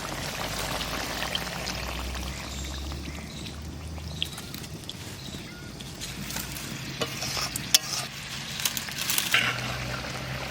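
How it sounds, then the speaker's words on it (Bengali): Tamarind water poured into a pan of sizzling shol fish curry, a steady low hiss and bubbling with faint clinks and stirring, recorded close in a home kitchen. "তেঁতুলগুলা জলটা এবার দিয়ে দেবো।"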